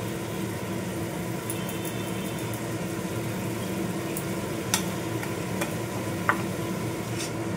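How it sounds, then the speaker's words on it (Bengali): Potatoes stirred with salt, turmeric and chilli in a pan under a low continuous sizzle and hum, with a few faint scraping ticks, quiet and close, no one speaking. "দিয়ে এবার নাড়তে থাকবো আলুটা ভালো মতো।"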